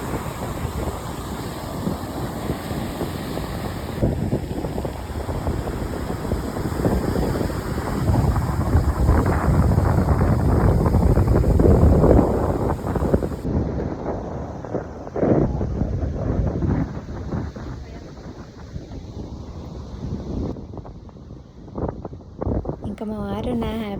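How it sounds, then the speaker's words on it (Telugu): Ocean waves washing ashore at a beach near Rameswaram and Dhanushkodi, a loud surging roar buffeted by wind noise, with people talking over it. "కానీ ఎంత బాగున్నాయి అలలు ఇలా వస్తున్నాయి."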